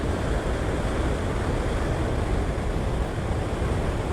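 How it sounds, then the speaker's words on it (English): Steady broadband rush of water spilling over floodgates, a constant close roar with strong low-end rumble and no breaks, heard alone. "there's not a lot of water coming over the floodgates"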